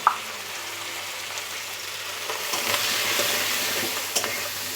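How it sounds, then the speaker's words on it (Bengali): Potatoes frying with salt and turmeric powder in a pan, a steady soft sizzle with occasional stirring scrapes, fairly quiet and close, no talking. "একটু নুন আর একটু হলদি পাউডার দিয়ে এগুলোকে ভালোভাবে ভেজে নেব"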